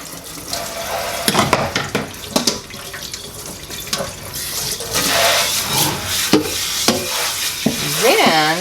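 Tap water running into a kitchen sink while dandelion roots are rinsed, splashing and gurgling with clattering handling sounds throughout.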